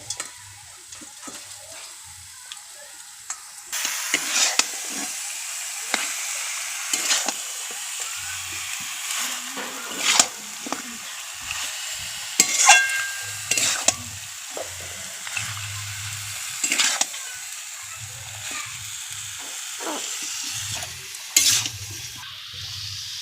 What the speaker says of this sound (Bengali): এবার চিকেনটা তুলে দেবো আমার ধুয়ে জল ঝরানো আছে এবার চিকেনটা দিয়ে দেবো